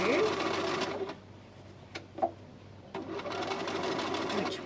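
A sewing machine stitches tape onto a fabric book cover, running close and loud, stopping briefly in the middle with a few light clicks, then whirring steadily again.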